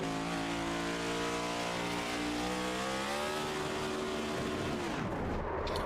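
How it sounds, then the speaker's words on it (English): A touring kart race car engine at Charlotte holds a loud, close, buzzing drone at high throttle. Its pitch stays steady, then falls away sharply near the end. "We're just going to listen to his throttle."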